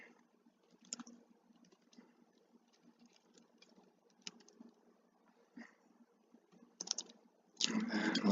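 Computer keyboard typing in light, irregular clicks at close range, scattered through a quiet stretch and ending in a louder, denser burst of keystrokes.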